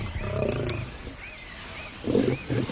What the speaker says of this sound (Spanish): escuchan gruñidos de advertencia procedentes de la espesura